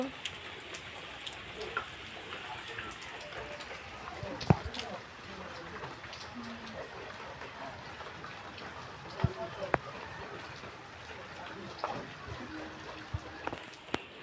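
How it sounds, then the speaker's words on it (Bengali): Light drizzle falls outside as a faint, steady patter, with a few sharp drop ticks and soft bird cooing in the background. "আর বৃষ্টি কিন্তু টিপটিপ করে পড়েই চলেছে"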